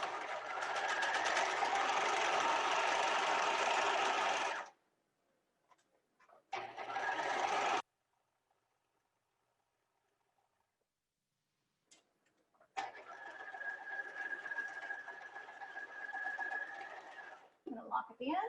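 A sewing machine stitches a seam with the presser foot lined up on the fabric edge, a loud steady buzz in two runs, with short quiet gaps and a brief spoken remark between them.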